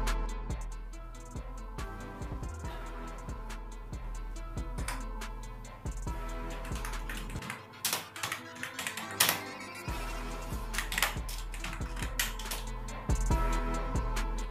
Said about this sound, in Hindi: तो ये एक सेमी मैकेनिकल कीबोर्ड है इसलिए इसका साउंड भी थोड़ा अलग है।